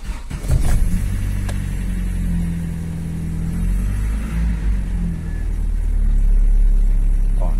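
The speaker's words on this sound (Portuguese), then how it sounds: "Vou ligar o carro agora." A Chevrolet Blazer/S10 engine cranks and catches, then settles into a steady, loud low idle rumble close by, with brief revving swells partway through.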